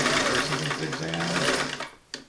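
A Singer 327 sewing machine runs a zigzag stitch, its busy mechanical whir steady and close for about two seconds before stopping with a short click.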